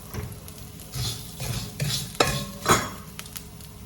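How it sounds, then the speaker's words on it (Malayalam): Semiya vermicelli being roasted in a pan with onion and chili, a steady scraping stir with soft sizzling and occasional clinks of a spoon against the pan, close and alone. "സേമിയ ഉണ്ടല്ലോ അത് റോസ്റ്റഡ് സേമിയാണ് അതൊന്ന് നമ്മൾ ഒന്നുകൂടെ വറുത്തെടുക്കണം"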